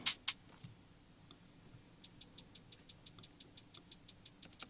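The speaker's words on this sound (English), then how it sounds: "So I got the hi-hats going now." Crisp drum machine hi-hat ticks in a steady, fast pattern, preceded by a couple of sharp hits and a brief gap; no voices.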